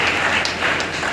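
Dense audience applause at a Bharatiya Kamera Varg Party rally, a steady wash of many hands clapping at once for about a second with no voices standing out.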